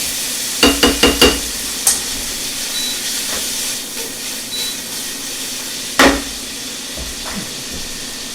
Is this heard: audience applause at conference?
no